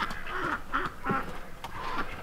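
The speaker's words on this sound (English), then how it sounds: "Hello, ducks. Hello, ducks. Come on in." Ducks quack repeatedly on a farm near a barn, a run of close, loud nasal calls filling the whole moment with no talk over them.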